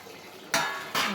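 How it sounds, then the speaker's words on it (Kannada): Okra tossed into a cooking pan for a Karnataka bendekayi gojju, two sharp clattering bursts of vegetables and spoon against metal, close and fairly loud, with no talking. "ಓಕೆ, ಇಲ್ಲಿ ನೋಡಿ ಬೆಂಡೆಕಾಯಿ ಆ್ಯಡ್ ಮಾಡ್ತಾಯಿದ್ದೀನಿ."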